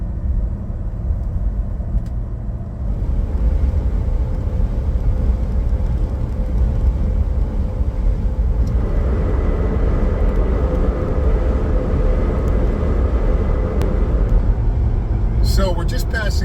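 Steady vehicle road noise from a Jeep Gladiator cruising on a highway, a continuous low rumble of engine and tires heard from inside the cab, constant and moderately loud throughout.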